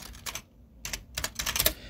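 CSS code is being typed on a computer keyboard in close, crisp bursts of key clicks, with a short pause before the rapid tapping resumes, and no talking.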